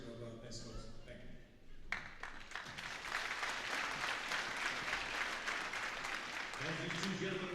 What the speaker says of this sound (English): we want to follow that up with a loud cheer afterwards